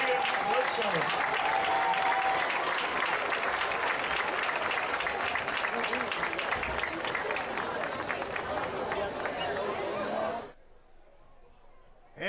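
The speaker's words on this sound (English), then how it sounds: "Let's give them a hearty round of applause and congratulations again to Caden Bledsoe." A large outdoor crowd at a Texas high school football game between Gilmer and Kilgore claps and cheers steadily for about ten seconds, the dense applause filling the air before cutting off abruptly into near silence.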